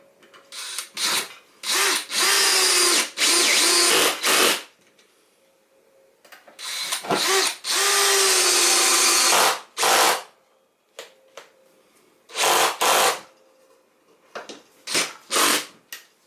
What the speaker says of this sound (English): So that little screwdriver is great.